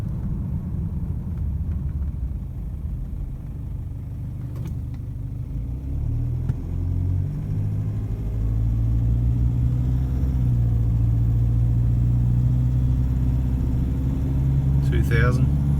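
A car engine fitted with new injectors keeps a slight, steady injector rattle over a loud close rumble that climbs in pitch and level as the revs increase midway.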